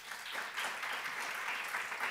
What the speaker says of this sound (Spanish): Por favor, le vamos a dar un aplauso.